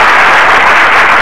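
An audience at a mushaira in Cuttack applauding a poet, a loud, steady wash of many hands clapping, close and continuous with no gaps.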